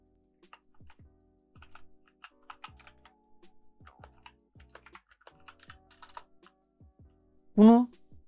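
Typing on a computer keyboard while entering a CPU model name into MSI Afterburner settings: a steady run of light, close key taps with brief pauses, ending in a short burst of voiced sound.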